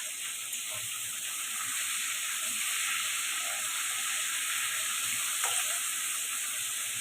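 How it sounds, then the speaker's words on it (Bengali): Pomfret fish frying lightly in a pan, a steady, soft hiss of oil sizzling throughout, with an occasional faint tap from a utensil. "আর পমফ্রেট মাছটা একদম হালকা ভাজতে হয়।"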